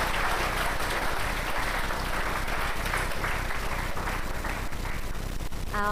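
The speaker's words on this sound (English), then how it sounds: "Last round of applause for our 2024 sports captains." A school commencement crowd applauds its 2024 sports captains: thick, continuous clapping from a large audience, fairly close and even in level from start to finish.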